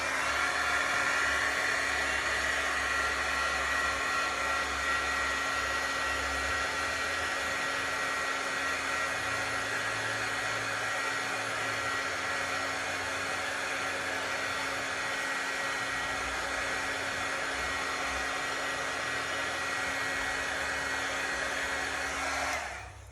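A hair dryer blows on a freshly painted watercolor card, running as a loud, steady whirring rush of air close by for over twenty seconds before switching off.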